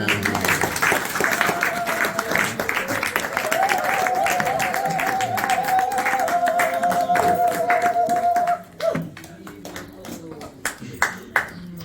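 An audience at a Belgian anniversary gathering claps in dense applause for several seconds, with a sustained tone running through it, before it thins to scattered claps and a voice speaks.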